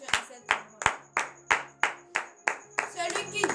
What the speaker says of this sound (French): Donnez de vives acclamations à cette